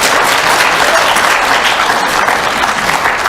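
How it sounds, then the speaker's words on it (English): Loud, dense applause from an audience at a planning and zoning commission meeting, continuous clapping holding steady throughout. "Ladies and gentlemen, please hold your applause"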